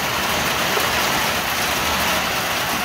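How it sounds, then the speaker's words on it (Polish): A heavy rain downpour in a flooded village yard in Nadrybie Wieś, a loud, dense, continuous hiss of pouring rain with no gaps. "Ale leje."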